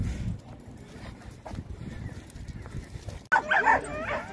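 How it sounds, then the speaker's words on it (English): Dogs gather at an outdoor dog festival, with a couple of sharp barks bursting out near the end after a stretch of muffled background noise and movement. "Oh, Otis is interacting with a few dogs now."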